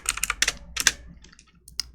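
A loud computer keyboard sits just below the microphone, giving close rapid keystroke clusters followed by a few sparser taps, with no speech.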